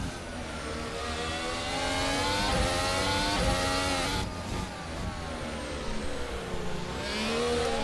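A race car accelerates out of a corner at Marina Bay, Singapore, its engine climbing through rising, revving pitches with gear changes, loud and continuous, with other engine noise in the background.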